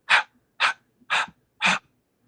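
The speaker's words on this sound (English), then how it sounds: "So when I hear a dog can just breathe, and I hear it so clear in him" A dog's breaths come in four evenly spaced, loud, close bursts, huffing rhythmically with short silences between them.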